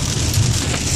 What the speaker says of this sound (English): I can't believe how much it rains here in Arkansas.